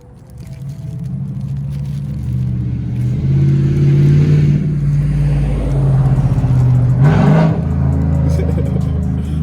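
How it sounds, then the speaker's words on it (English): A heavy vehicle rumbles past outside, its engine building to a loud, low roar and then shifting as it goes by. "Y'all hear that truck?"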